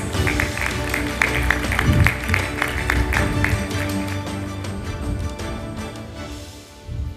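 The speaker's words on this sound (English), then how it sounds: "A big round of applause, please." An audience at the Thailand Halal Assembly 2024 conference claps during a certificate presentation, sharp close hand claps over a fuller room-wide patter that eases off slightly toward the end.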